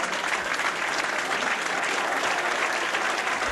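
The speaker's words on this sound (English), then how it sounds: "Getting a good round of applause from the crowd." A rugby league crowd at Warrington against Swinton applauds a try by Phil Blake, a dense, steady wash of clapping that fills the whole stretch without pause, loud and close.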